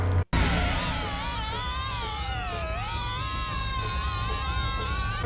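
A piece from the Silent Hill 3 soundtrack plays as a steady, sustained melody of wavering, gliding tones at an even level throughout.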